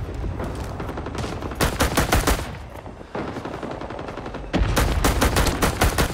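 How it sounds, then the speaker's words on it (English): A PPSh submachine gun fired on semi-auto in Rising Storm 2: rapid, loud, closely spaced shots in dense clusters, with a brief lull before a final heavy burst. "Some dude shooting me in my legs. The PPSH on semi-auto."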